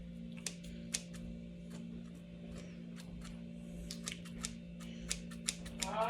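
Kitchen scissors snip through bacon in a run of sharp, close clicks, irregular at first and quickening toward the end, over a faint steady hum with no talking.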